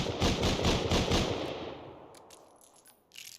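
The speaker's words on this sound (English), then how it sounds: "So here's a Python." Python revolver fire in Rust Console Edition, a rapid string of loud sharp gunshots followed by a long fading echo and a few faint clicks at the end, with no talking.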